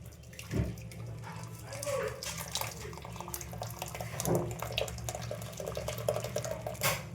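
Curdled peanut paneer mixture is poured through a thin cloth into a vessel, making a continuous close trickle of liquid with occasional splashes and drips.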